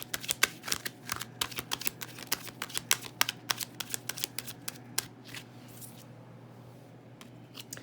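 Tarot cards shuffled by hand close up, a rapid run of crisp papery riffles and slaps that thin out toward the end, quiet and without speech.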